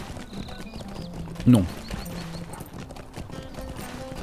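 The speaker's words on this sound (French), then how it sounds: "Alors, j'ai pris mon cheval." Horse hooves clip-clop at a walking pace in the online game Lord of the Rings Online, with a neigh rising briefly partway through, while someone talks over the steady hoofbeats.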